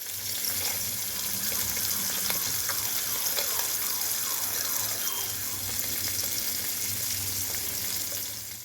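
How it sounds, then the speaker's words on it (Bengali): Fish fries in hot oil in a home kitchen, a steady dense sizzle and crackle that holds evenly for several seconds with no talk over it. "ওইদিকে মাছগুলো ভাজা হোক"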